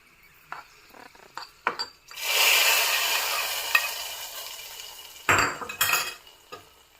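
Roasted raisins and cashews tipped from a small pan into a pot of papaya payasa and stirred, close clinks of a metal spoon against cookware followed by a few seconds of sizzling, then more scraping and clatter.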